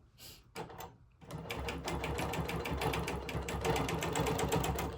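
Sewing machine stitching close to the edge of a quilt: a brief start and stop, then a fast, steady rhythmic whir of stitches close by that builds slightly and runs to the end.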